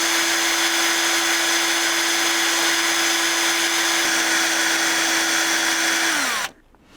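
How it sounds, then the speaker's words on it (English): A drill boring into a very hard induction-hardened lathe bed on a Warco lathe, a loud steady high-pitched whine held at constant speed for several seconds, then winding down and stopping abruptly. "there's a chance of busting off the drill"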